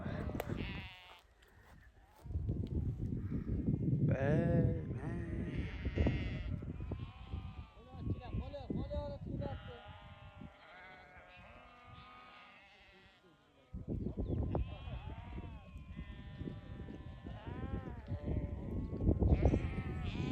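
Several sheep bleat repeatedly, close and overlapping, in two bursts separated by a quieter stretch with fainter calls.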